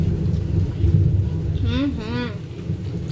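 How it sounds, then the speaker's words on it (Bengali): Heavy rain pours steadily outside with a low rumble of thunder running through it, a dense continuous wash of sound, with a brief voice-like tone rising over it midway. "ওদিকে বাইরে কিন্তু খুব বৃষ্টি হচ্ছে, মেঘ ডাকছে, মেঘের আওয়াজ পাওয়া যাচ্ছে"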